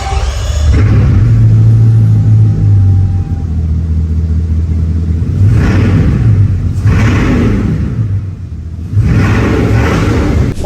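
A W-layout car engine revs hard, a loud steady rumbling drone rising and settling, then two further short bursts of revving after a brief dip.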